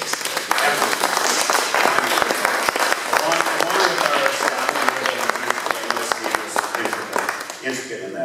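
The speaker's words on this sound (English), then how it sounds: "I would just like you to give him a round of applause" Audience applauding a museum volunteer at a culture and infrastructure funding event, with sustained dense clapping across the room and a few voices mixed in before it fades near the end.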